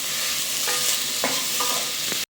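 Ash gourd pieces frying with onions, a continuous close sizzle broken by a few distinct stirring scrapes of a spoon against the pan, ending abruptly.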